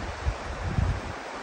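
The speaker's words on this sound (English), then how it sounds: "That's my water source for the next 24 hours. The Feshie. Big river." The Feshie, a big river in the Scottish Highlands, rushing steadily below a cliffside path, a broad continuous roar of water with some wind buffeting, heard from a distance with no voices.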